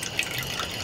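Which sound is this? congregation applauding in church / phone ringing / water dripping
water dripping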